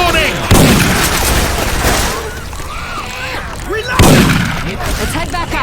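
Syphon Filter weapon sounds swapped into Left 4 Dead 2: loud, close gunfire bursts at the start and again around the four-second mark, with game noise and effects continuing between them.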